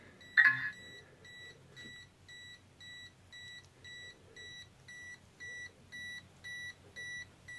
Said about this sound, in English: this ESC is really annoying with beeping